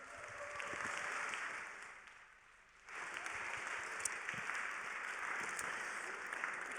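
Applause at a peace and sport gala, a broad, soft wash of clapping heard from afar, briefly dipping quieter midway before swelling again to a steady, even level.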